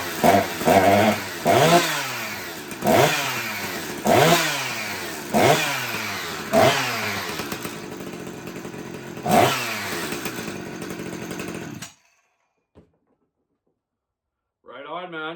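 A Stihl-style 359 chainsaw fitted with a new Hyway cylinder fires up and revs in repeated loud bursts, dropping to a steady idle between throttle blips, then cuts off into near silence.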